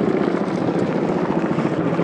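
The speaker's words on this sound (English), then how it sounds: "You can hear a helicopter." A steady low rotor drone with a broad rumble holds throughout, like a helicopter passing overhead at moderate distance above Canal Road in Washington, DC, with no talking.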